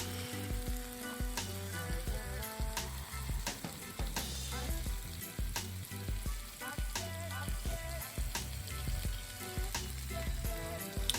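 Jerk chicken pieces fry on a stovetop over medium-low heat, a steady bright sizzle with popping spatter and occasional sharp knocks of the pan or utensil, no talk.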